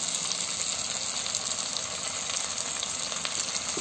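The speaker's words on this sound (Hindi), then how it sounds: "अब मैं इसमें one and half table spoon ginger garlic का पेस्ट डालूंगी" Ginger garlic paste frying with golden brown onions in a pan for malai chicken gravy, giving a steady, moderately quiet hiss of sizzling oil with no break.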